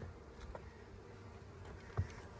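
Bees buzzing around the outside of a hive box during a spring hive inspection, a faint steady drone with scattered close passes and a brief louder bump near the end, no talk.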